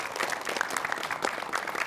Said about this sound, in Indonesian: tepuk tangan dong buat Mas Wet.